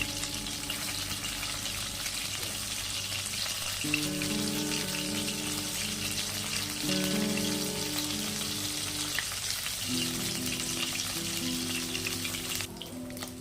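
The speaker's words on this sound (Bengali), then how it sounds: "এখানে তেলাপিয়া মাছগুলোকে শুধুমাত্র নুন আর হলুদ দিয়ে ভেজে নিচ্ছি" Tilapia pieces seasoned with salt and turmeric fry in oil with a soft, continuous sizzle, fairly quiet and close, while a steady tonal hum runs underneath.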